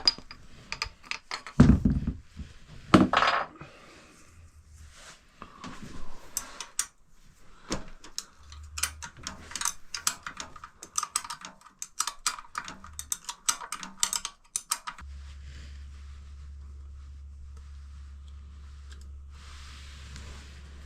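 Ratchet wrench removing bolts on a 1975 Honda XL250 motorcycle, with rapid clicking bursts of the pawl, a few louder metallic clanks early on, and a low steady hum in the last several seconds, close and fairly quiet.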